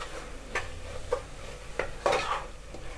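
Vegetable biryani ingredients being stirred in a cooking pot, with a few distinct metallic scrapes and clinks of a spoon against the pot spread over a few seconds, close and moderately loud with no talking.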